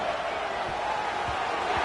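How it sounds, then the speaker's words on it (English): A stadium crowd roars at an American football game, a continuous dense wall of cheering heard from a distance, with a few soft thumps underneath and no clear talk. "Listen to this crowd just shaking the girders of this place"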